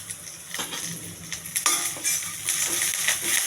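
Chana dal fries in hot oil with curry leaves, green chillies, cumin and mustard seeds for a mushroom curry: a steady, loud sizzle with repeated scraping stirs against the pan.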